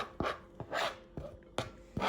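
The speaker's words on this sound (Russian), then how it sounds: "Зелень нарезала" A knife chops fresh green onion and dill on a board, five distinct sharp strokes in an uneven rhythm, close and clear with no voice.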